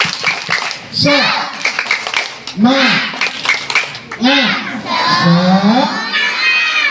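Schoolchildren at SD Negeri Kedung Gancana 1 perform a tepuk semangat spirit clap, loud rhythmic bursts of group clapping alternating with chanted, sing-song shouted lines from many young voices, close and energetic.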